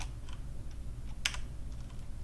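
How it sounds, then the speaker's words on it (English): Typing on a computer keyboard, quiet scattered key clicks with one sharper burst of keystrokes midway over a steady low hum. "So we'll type in alert"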